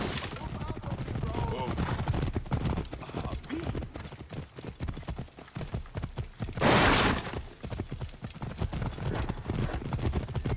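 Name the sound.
horse hooves galloping in video game Assassin's Creed Origins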